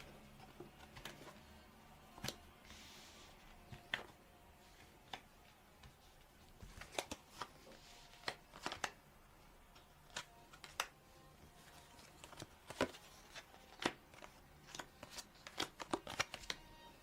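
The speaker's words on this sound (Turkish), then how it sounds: "Hemen kartları açıyorum" Tarot or playing cards being turned over and laid down, giving soft, sharp snaps and taps spaced irregularly, close and quiet against a faint background hum.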